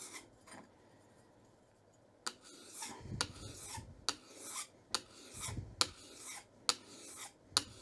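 A chip breaker edge being honed on a sharpening stone, a series of rasping, scraping strokes in an uneven rhythm, close and fairly quiet with short pauses between passes.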